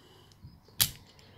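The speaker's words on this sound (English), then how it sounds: "just push the handle down. That, in return, will release the firing pin." A CZ 455 .22 rifle bolt snaps its firing pin forward in a single sharp metallic click, close and brief, preceded by a faint softer tap.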